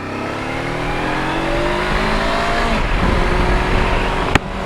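A Honda NX500 motorcycle pulling away and accelerating, its engine note climbing steadily in pitch from onboard, loud and continuous with wind noise.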